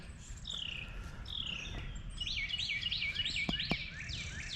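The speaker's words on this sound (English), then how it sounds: "And you can hear the birds." Several birds chirp and trill repeatedly in an outdoor wildlife area planted with fruit trees, rising sweet calls layered over a steady low outdoor hum, with no talking.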